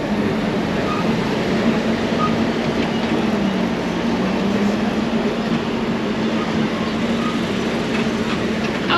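A Space Center Houston tour tram rolls along steadily on its route, a continuous close rumbling drone with a faint tonal hum, no talking over it.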